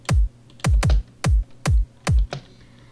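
Keys pressed one at a time on a computer keyboard while making a beat in FL Studio, six close, crisp taps in an uneven rhythm with no talk.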